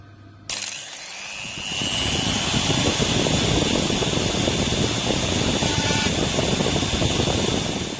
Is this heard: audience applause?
no